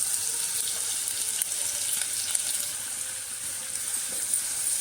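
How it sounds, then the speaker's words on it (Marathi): Ginger, garlic and green chili paste fries in hot oil with whole spices for a mutton curry, giving a thin, steady, moderately loud sizzling hiss with no talking. "त्या तेलामध्ये आपण कडे मसाले घालून घेऊ त्याच्यानंतर यात आपण घालू आलं लसूण हिरवी मिरचीची पेस्ट"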